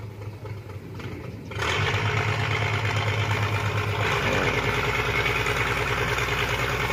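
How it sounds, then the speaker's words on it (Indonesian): Motorised jukung boat engine cranks and catches, then settles into a steady loud idle with a low rhythmic chug close by, no talk over it. "Kaptennya sudah menyalakan mesin."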